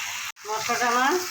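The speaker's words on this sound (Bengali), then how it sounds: "সামান্য একটু জল দিয়েছি, মশলাটাকে ভালো করে কষিয়ে নেব।" Spice paste frying with a little water in a pan for an egg-potato bora curry: a loud hiss and bubbling sizzle resumes after a brief silent break, close and steady.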